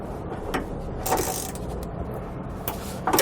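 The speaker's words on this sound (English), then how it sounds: "we're going to grab a short extension and a 13mm socket, and if you come up from the bottom, I'm going to break it loose" Ratchet wrench with a short extension and 13mm socket breaking loose a bump stop from below a truck frame during a Timbren front suspension install; a few sharp mechanical clicks and a heavier clunk over a steady background hum.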